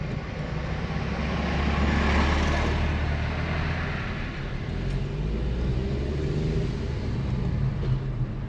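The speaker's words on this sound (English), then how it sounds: "Oh, and a lorry. So we'll join the fig tree here and we'll just wait while he goes past." A lorry passes on a mountain road near the village of Lagada, its deep engine rumble swelling steadily over a few seconds and then lingering as a broad, continuous roar with no voices.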